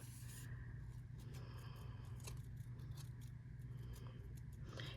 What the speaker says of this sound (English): turning the paper with my left hand while my right hand just simply holds the scissors